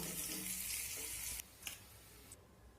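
Potatoes sizzle as they fry in hot mustard oil for a chicken curry, a dense steady crackle for over a second, then the frying dies down to quieter scattered sputters and a few brief kitchen clinks.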